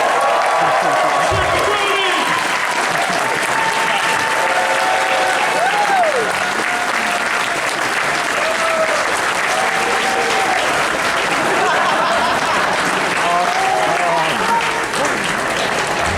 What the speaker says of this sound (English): Can we have another round of applause for Brody?